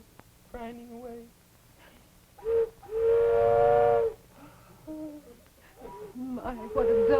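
Old steam train whistle from a 1951 television puppet show, a long sustained tone in the middle followed by shorter hoots, with speech-like voiced passages around it that may be someone imitating the whistle.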